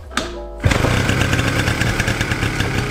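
A Yamaha Razz scooter's small two-stroke engine sputters, catches and settles into a loud, buzzing idle close by, running steadily with a rapid raspy rhythm and no talking over it.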